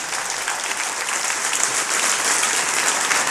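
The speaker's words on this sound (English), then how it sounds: "Give them a big round of applause." A sustained round of audience applause at a New Zealand conference session, dense and even from start to finish, with no speech over it.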